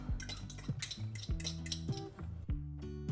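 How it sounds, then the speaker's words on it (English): A utensil clinks and scrapes against a bowl in quick, repeated metallic taps while orange juice is mixed into oat snack ingredients, close and clear with no talk. "now we add orange juice. Mix that together."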